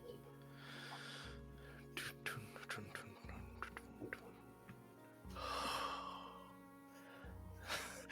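A voice mimics a sleeping creature charged with electric energy, producing slow, breathy snores and snorts roughly every two seconds over a low background hum.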